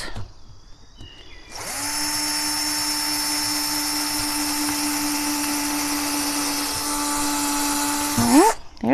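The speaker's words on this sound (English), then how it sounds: "So we're going to drill some holes." Power drill boring a hole into old barn wood, a steady high whine that spins up, holds for several seconds, then winds down, close and fairly loud, with brief handling noises before and after.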